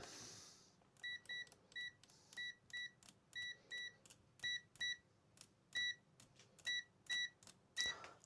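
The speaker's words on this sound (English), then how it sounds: "Let's test continuity first." An Aneng 623 folding multimeter on continuity test gives a run of short, clean electronic beeps, repeated in quick irregular pairs and singles as the probes touch, close and fairly quiet with no talking.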